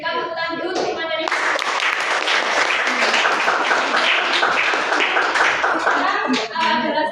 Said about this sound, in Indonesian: Berikan tepuk tangan dulu untuk materi